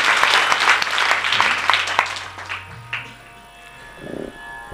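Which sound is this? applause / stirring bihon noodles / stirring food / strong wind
applause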